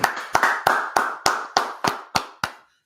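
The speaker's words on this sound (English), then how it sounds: "All right, let's clap it up." About nine sharp hand claps ring out one at a time at a slow, steady beat, loud and close, with no talking, at an Israelite School of Universal Practical Knowledge street gathering in Washington DC.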